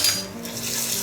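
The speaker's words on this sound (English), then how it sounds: "Give it a mix." A utensil scrapes and clinks against a cooking pan as masala is stirred, one short close burst of metal-on-pan contact with a faint sizzle underneath.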